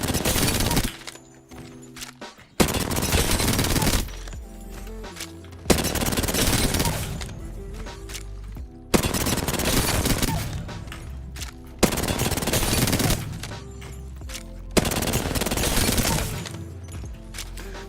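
Automatic weapon fire in the Apex Legends firing range, loud sustained bursts of rapid shots in a repeating pattern of about six long volleys with brief pauses between them.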